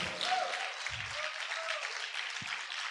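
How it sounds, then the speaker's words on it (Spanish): A church congregation breaks into loud, sustained applause that fills the whole stretch as a dense, steady clatter of many hands, with no voices rising above it. "Vamos a aplaudir fuerte al Rey en este momento."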